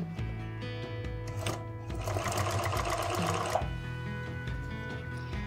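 A sewing machine stitches thick denim trousers, a steady mechanical whir with rapid needle ticking that speeds up in the middle, close and alone.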